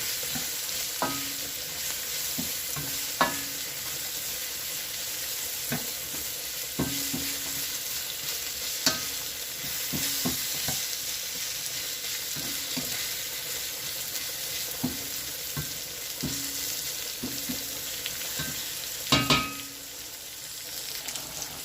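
Chinese pork sausages frying in a pan, a steady bright sizzle throughout with repeated clinks and scrapes of a utensil stirring them, close and continuous.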